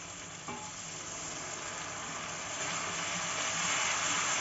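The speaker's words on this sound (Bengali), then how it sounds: "এর ভিতর জল অ্যাড করা হচ্ছে।" Water poured into spicy eggplant gravy in a hot pan sets off a loud, continuous sizzling hiss that swells steadily over a few seconds, heard close with no talking.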